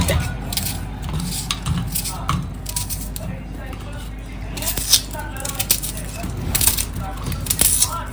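Repeated knife chops on a board as an onion with some of its peel left on is cut, uneven taps running under steady talking throughout.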